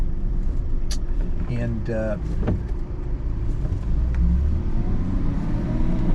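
A mint-condition single-owner Mercedes Fintail runs on a road test, its engine a low steady rumble from inside the cabin, with brief talk and a few clicks over it.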